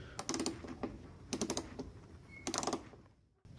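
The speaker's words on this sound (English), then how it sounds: "with our little screwdriver right here, we're going to go ahead and take off the Phillips screws" A small Phillips screwdriver backing screws out of an Infiniti G20 fender area, heard as three close bursts of rapid clicking ratchet-like ticks with quiet gaps between, alone without speech.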